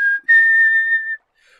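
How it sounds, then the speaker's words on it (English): A steady whistled tone from the chronicler in the Sunless Sea video game holds for about a second after a brief opening note, loud and close, with no talk over it. "Whistling, the chronicler does his work."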